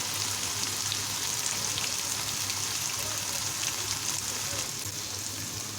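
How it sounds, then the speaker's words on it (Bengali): Malabar spinach and potato bhaji frying in a pan, a steady close sizzle running unbroken with faint stirring and no voices. "আমার পুঁইশাক ভাজিটা কিন্তু প্রায় হয়ে গেছে"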